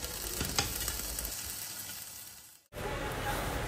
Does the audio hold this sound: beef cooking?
yes